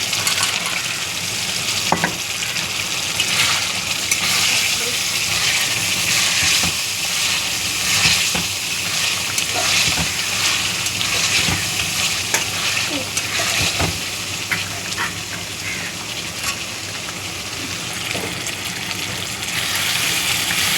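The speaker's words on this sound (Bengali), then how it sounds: "এখন আমি দিয়ে দেবো সোয়াবিন।" Soybean chunks going into a pan of well-fried masala for a soybean and potato kosha, giving a loud, continuous sizzle and hiss with occasional stirring clinks throughout.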